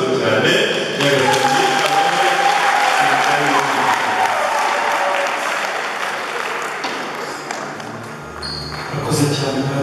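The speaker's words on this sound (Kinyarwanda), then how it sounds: "mwongere mumfashe tumuhande amashyi" A gospel concert audience claps and applauds loudly and continuously, a dense wash of hands that fades slightly toward the end.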